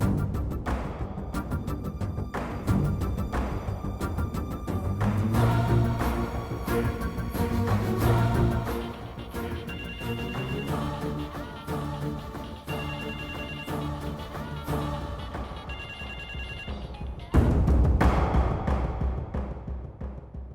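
A mobile phone rings with a loud, repeating electronic ringtone that lasts for about twenty seconds, and a dramatic music score plays underneath it.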